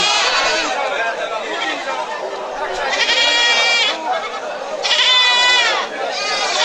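Native-breed goats bleat loudly in wavering cries, two clear calls standing out over a crowd of chattering voices at a busy goat market.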